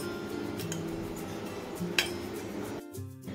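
A cooking pot set down on a gas stove with clinks and a short metallic clatter, muffled kitchen handling noise around it and a brief clunk near the end.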